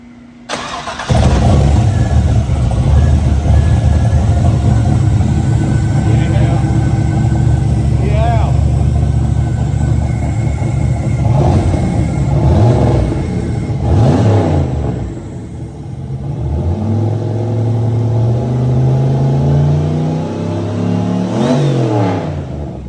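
A turbocharged race car engine fires up and revs loudly and close by, its pitch sweeping up and down with throttle blips, while people talk over the running engine.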